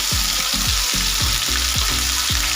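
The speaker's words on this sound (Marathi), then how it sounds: "टोमॅटो कांदा तिची या तेलामध्ये घालून घ्यायची" Tomato and onion paste frying in hot oil with mustard seeds and cumin, a steady loud sizzle with rhythmic stirring scrapes, close and continuous with no voices.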